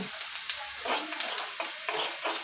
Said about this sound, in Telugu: ఇప్పుడైతే ఉల్లిపాయలు ఫ్రై అవుతున్నాయి.